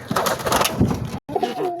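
Pigeons kept in a loft coo close by, soft throaty rolling calls repeating over about two seconds with faint rustling and a brief gap between phrases.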